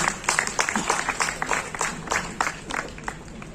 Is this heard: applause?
yes